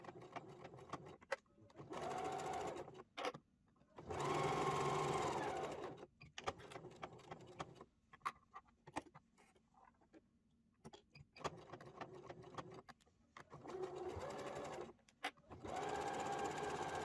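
A sewing machine runs a straight stitch seam in several separate bursts of steady motor whir, stopping and starting between them, with faint sounds in the quieter gaps.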